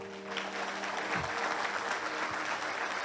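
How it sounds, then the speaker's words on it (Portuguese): Church congregation applauding loudly, a dense, even roar of clapping that fills the room for several seconds with no talk over it. "Você pode aplaudir o nome de Jesus bem forte?"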